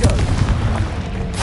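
Spell blast from Hogwarts Legacy, the Confringo fire curse, lands as a loud, continuous booming explosion with deep rumbling low end and bright crackle on top, sustained across the moment with a fresh burst near the end.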